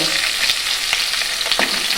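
Fish heads deep-fry in hot oil until reddened, giving a loud, steady, close sizzle and crackle with faint stirring scrapes and no voices.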